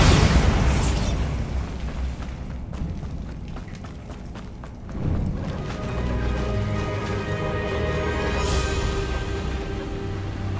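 A Bombarda spell in Hogwarts Legacy sets off a heavy, rumbling explosion; a second loud burst follows midway and trails off into a long, noisy rumble.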